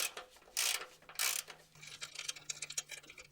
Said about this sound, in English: So we'll grab our 12mm socket and start undoing them.